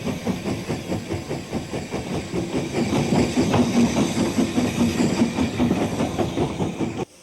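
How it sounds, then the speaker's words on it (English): Steam locomotive Gothenburg pulling out of a station shed with its coaches, a steady rhythmic chuffing and hiss with rail clatter, loud and close, running continuously before stopping abruptly at the end. "the locomotive known as Gothenburg leaves the station shed with its coaches"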